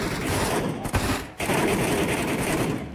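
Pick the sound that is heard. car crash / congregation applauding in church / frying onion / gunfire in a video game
gunfire in a video game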